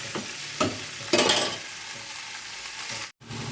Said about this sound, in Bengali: আলু ফুলকপি গাজরটা ভাজা ভাজা করে নেবো